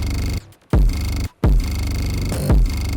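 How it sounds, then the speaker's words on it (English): Punchy kicks with deep 808 bass that audibly dips under each hit, the low end pumping back up between kicks; loud, no talking. "each time the kick hits, both 808s kind of duck down a little bit"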